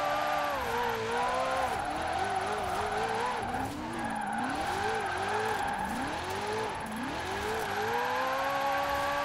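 Maserati drift car in Forza Horizon 4 revving hard through the gears, its engine note rising and falling in repeated sweeps with tire squeal and skidding layered over it, loud and continuous throughout.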